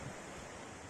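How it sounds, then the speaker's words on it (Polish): Gusty wind blows outdoors while large trees are being felled, making a brief, steady broadband rush with no voices. "Zerwał się dosyć porywisty wiatr"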